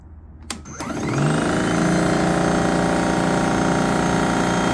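An Ego single-stage battery snow blower starts up and settles into a steady, loud whir on its lowest setting, a continuous electric motor and auger hum holding constant after a brief click and spin-up.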